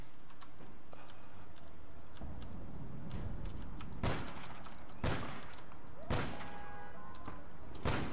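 A sniper rifle is hipfired in APB Reloaded, giving three loud, sharp reports spaced about a second apart, each with a ringing tail, over faint background game noise.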